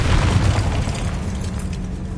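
A Confringo blasting spell goes off in a wizarding game as a loud, deep booming explosion with a rumbling tail that fades slowly. No one speaks over it.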